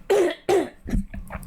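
Two sharp, close coughs in quick succession, followed by softer throat-clearing sounds from a hoarse man alone indoors.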